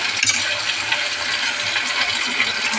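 Potato and banana slices fry together in a pan, giving a steady, dense crackling sizzle with a few sharper pops near the start, continuous and fairly close with no voices.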